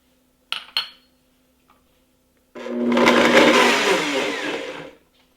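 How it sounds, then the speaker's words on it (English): A blender pureeing tomatoes and ginger for baby eggplant gravy runs loud and close for about two and a half seconds after a couple of sharp clinks of the jar and lid, then cuts off. "Now I am going to puree the tomatoes for the gravy"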